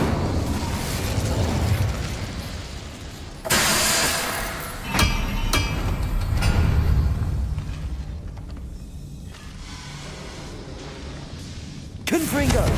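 An Incendio fire spell is cast in Hogwarts Legacy, bursting with a sudden whooshing blast and crackling flare, followed by further impacts and popping amid game ambience and occasional voices.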